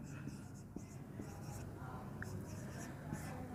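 Faint pen strokes scratching on paper during a metric space lecture, with soft scribbling bursts and taps at close range in a quiet room.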